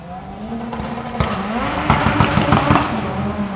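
A car engine in neutral rumbles loudly nearby at a track, idling roughly with uneven pulses and a gritty growl that swells slightly.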